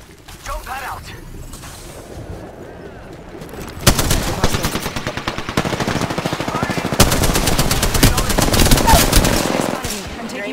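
Rapid automatic gunfire in the Apex Legends battle royale game, loud bursts of Spitfire light machine gun fire running almost continuously through the second half after a quieter opening.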